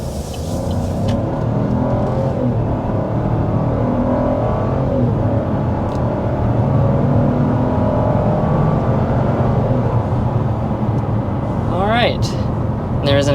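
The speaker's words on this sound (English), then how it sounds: "There's an acceleration up to 60 miles per hour." A 2024 Buick Encore GX small SUV accelerating hard up to 60 mph, with a steady, loud engine and road drone that holds throughout and a brief rising note near the end.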